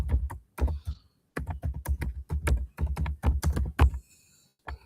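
Computer keyboard typing while writing database-connection code for MySQL, heard as irregular bursts of close, clattering keystrokes with brief pauses between runs.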